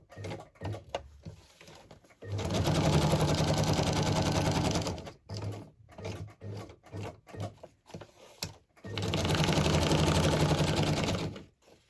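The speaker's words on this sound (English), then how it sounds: "Even though it's glued, I'm going to do some stitching as well." Sewing machine stitching through a glued paper journal page tag, with two long steady whirring runs of rapid stitching separated by short stop-start bursts and clicks, close and loud.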